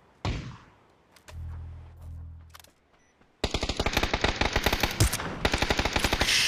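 Gunshots in PUBG's Counter-Strike mode: a single sharp shot and a few thuds, then a quiet stretch before a loud, sustained burst of rapid automatic fire runs to the end.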